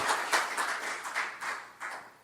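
Brief, uneven clapping from an audience at a construction industry lecture, swelling and fading in small bursts over a couple of seconds.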